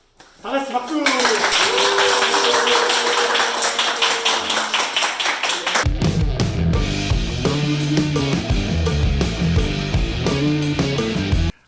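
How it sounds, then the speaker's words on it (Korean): Group applause from a small gathering celebrating a student's first published paper: about five seconds of dense, steady clapping with voices mixed in, then music takes over. "다 같이 박수!"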